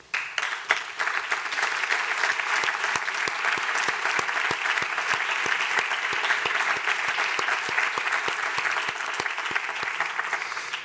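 Steady, dense applause from an audience at a Prado Museum press conference on the art of Clara Peeters. It continues for about eleven seconds at an even level, with no voices over it.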